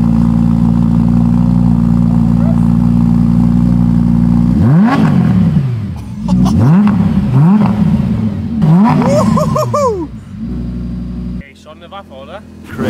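An Audi V10 car engine idles loudly at close range, then is revved in a series of sharp rising blips, settling back down as people talk nearby.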